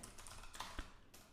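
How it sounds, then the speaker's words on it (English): Computer keyboard typing during a coding session, with soft scattered keystrokes and one sharper clack, faint and close with no talk over it; the keyboard is said to sometimes stick. "that's going to be my keyboard. Sometimes it sticks."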